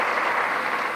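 A pageant audience cheers and applauds loudly and continuously, a dense steady roar of clapping and shouts filling the whole second.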